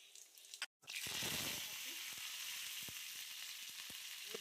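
Cumin seeds hit hot oil in a home kadai on a stove, bursting into a sharp, loud sizzle after a brief silence, then settling into a continuous crackle with scattered pops and faint stirring taps.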